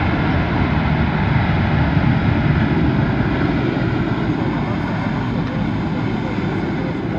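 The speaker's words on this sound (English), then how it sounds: "Very unusual sound out of the engines there on full reverse." Jet airliner engines roaring on full reverse thrust during an arrival at Dublin Airport, a loud, steady broadband rumble that holds throughout with no talk.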